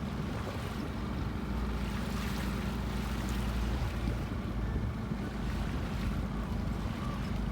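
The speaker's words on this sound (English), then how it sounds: "We're just pulling into Ford Cove." A Nordhavn 40 motor boat cruises into a cove on Vancouver Island as wind picks up, with a steady low engine rumble, water rush and wind buffeting the microphone throughout.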